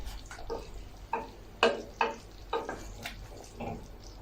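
Tomato sauce for a pasta bake bubbles and sizzles softly in a pan, with a few stirring scrapes and small pops spaced irregularly, quiet and close.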